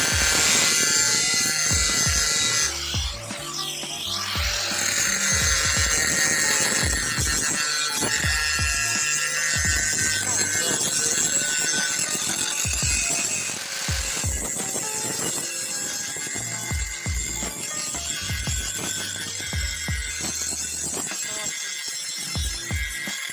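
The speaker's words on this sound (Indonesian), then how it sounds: "saya akan mencoba memoles menggunakan mata batu poles seperti ini. Ini untuk memoles permukaan dari besi" Stanley SG5100 angle grinder polishing an iron surface with a stone polishing wheel: a loud, continuous high motor whine with rough grinding scrapes and brief dips in pitch, close by.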